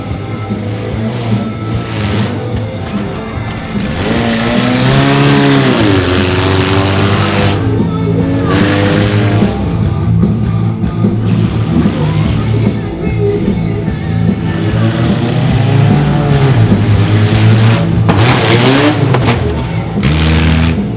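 A mini monster truck engine revs hard at a monster truck show in Frederick, Maryland. The engine roars loud and close for the whole stretch, rising and falling in pitch through repeated throttle surges, with faint crowd and announcer sounds underneath.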